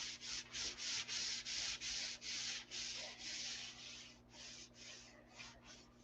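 Rhythmic hand sanding of a lacquer nitrocellulose finish before painting, with steady back-and-forth strokes at an even pace that soften toward the end, close by under a low electrical hum.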